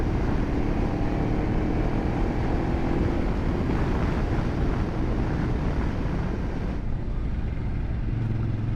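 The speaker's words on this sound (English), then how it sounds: "Sometimes I like to give it gas just because I like the sound of the engine." A motorcycle engine is revved and held on the throttle while riding, a steady, loud roar blended with heavy wind buffeting, continuous throughout with a slight easing near the end.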